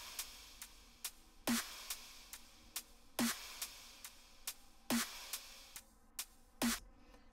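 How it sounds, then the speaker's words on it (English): Mellow drum loop playing in Ableton, soft kick and snare hits repeating at a steady relaxed tempo with light ticking hi-hats between them, quiet and clean with no voices. "Okay, so the next thing I did was I wanted to add some drums. So I went and I got a loop"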